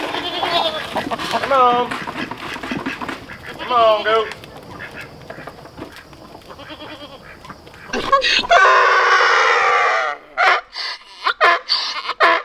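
Several goats bleat loudly and repeatedly during breeding-season farm work, overlapping cries close by, with a long loud bleat near the end and other farm noise around.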